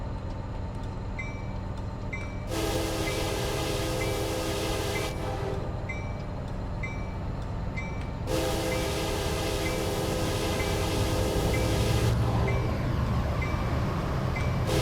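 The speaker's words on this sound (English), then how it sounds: "AI train going by yet again." An AI-controlled freight train rumbles past in Train Simulator 2017 on a California line, a loud steady rolling roar with surging rushes of wheel and wagon noise as the cars go by close.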